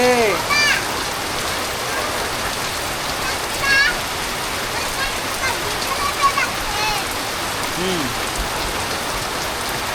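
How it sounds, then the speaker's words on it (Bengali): Heavy rain pouring down in a village, a dense, steady hiss of drops on surfaces lasting throughout at close range, with a few brief faint voices and bird-like chirps over it. "অনেকদিন পর মানে এত বৃষ্টি নামলো, পরিবেশটা একটু ঠান্ডা হইলো"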